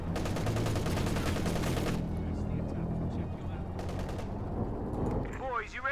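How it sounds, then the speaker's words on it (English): Battle in Company of Heroes 2 during a world championship match, with bazookas firing back at a Puma armoured car. Dense rapid gunfire and explosions fill the clip while a commentator talks over the action. "There's returning shots on that Puma from the bazookas."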